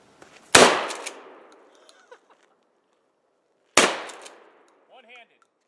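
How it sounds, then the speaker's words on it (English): Two sharp, loud pistol shots from a Sig handgun fired at a shooting target, about three seconds apart, each ringing out with a long decaying echo, followed by brief faint clatter. "So Gary's about to, you know, eat some good lead too."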